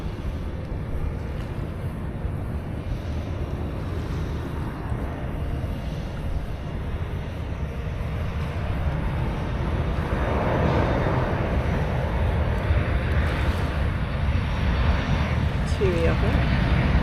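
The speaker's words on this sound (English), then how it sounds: "there's a plane coming in now as well" An airplane comes in to land near the water off Skiathos, a broad low engine roar that swells gradually over the span, heard at a distance under wind noise and occasional talk.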